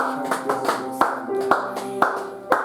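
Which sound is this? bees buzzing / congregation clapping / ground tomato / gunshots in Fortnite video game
congregation clapping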